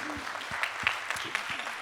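Audience applause at a national conference on civic voter registration, honoring record youth voter turnout; steady crowd clapping fills the short clip with a few sharper individual claps, no talking.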